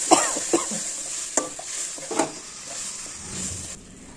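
A spoon stirs doi katla fish curry with chili powder and yogurt in a hot pan, giving a steady sizzle with repeated scraping strokes and soft clinks, close and alone without voices.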